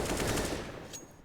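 Gunfire from a CS:GO match at the IEM Katowice 2022 esports tournament, a dense burst of rapid shots lasting about a second, loud and continuous, then tailing off.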